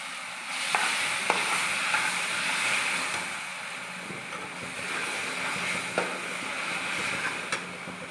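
Raw papaya pieces sizzle in caramelised sugar made without water while being stirred, a steady hiss broken by several sharp scrapes and taps of the spoon against the pan, with no talking.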